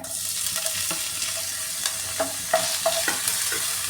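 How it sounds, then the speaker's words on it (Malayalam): Crushed ginger and garlic fry in hot coconut oil for a chicken roast, giving a steady, close sizzle with repeated spoon scrapes and taps against the pan as they are stirred. "എണ്ണ ചൂടായിട്ടുണ്ട് ഇനി ഇതിലേക്ക് ഈ ചതച്ച് വെച്ചിരിക്കുന്ന ഇഞ്ചിയും വെളുത്തുള്ളിയും കൂടി ഇട്ട് കൊടുക്കാമേ"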